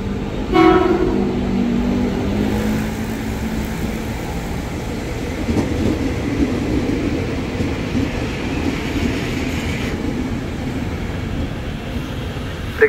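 KRL Commuter Line electric train arriving at Duren Kalibata station in Jakarta, a steady rumbling roll along the platform with a short horn toot near the start and a brief clank later.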